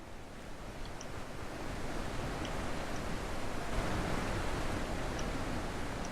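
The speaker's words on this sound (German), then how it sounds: "Hier verläuft auf jeden Fall ein Fluss entlang." River water flowing in the video game The Witness, a steady, broad rushing wash heard close and continuous, with faint high chirps scattered on top.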